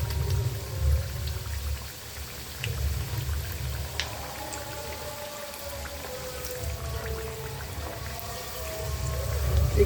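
Flour pitha frying in a pan, a soft continuous bubbling sizzle with a low rumbling hum underneath, steady and fairly quiet with no talk.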